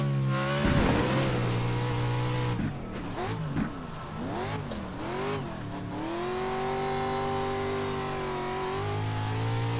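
Pro 2 Lite off-road race truck engine in iRacing at Wild West Motorsports Park, droning close and steady, with revs climbing and dropping through gear changes and bumps over about ten seconds.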